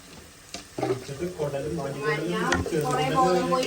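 Capsicum, onion, garlic, ginger and green chilli sizzle steadily as they sauté in a pan, a soft continuous frying hiss close by with a voice talking over it for most of the stretch.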